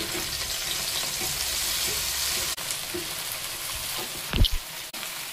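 Fresh gongura leaves hit hot oil in a pan over a medium flame and fry with a steady, loud broadband sizzle, broken by a brief dip and a couple of sharper crackles near the end; no one speaks.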